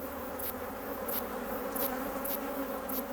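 Honeybees buzzing around hives kept by monks, a steady close insect hum with a continuous drone and faint brief high accents, no voices.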